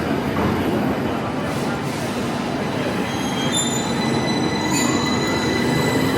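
Train at London Euston station, a rumbling rail roar with high metallic wheel squeals and whines near the end, heard close and loud in an underground setting.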